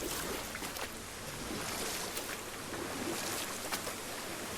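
A boat paddled across water in God of War (2018), with steady sloshing and lapping water and soft splashes against a constant watery wash, moderately quiet and without voices.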